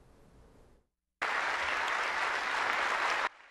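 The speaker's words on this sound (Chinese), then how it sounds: "热烈掌声中，古巴总统迪亚士卡奈起身接受至高荣誉" Warm, sustained applause from a large audience at the Cuban Communist Party congress as President Díaz-Canel rises to receive an honour, a dense loud wall of clapping after a brief quieter stretch and silence.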